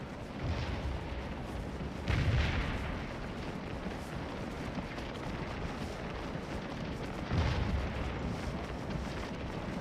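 Booming artillery fire from 10-pounder cannons in a Civil War strategy game, with a couple of heavy distant blasts rolling out over a constant low battlefield rumble.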